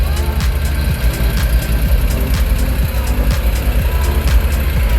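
A Honda NSX engine idles steadily after starting, a low rhythmic rumble with periodic ticking, fairly close and loud throughout.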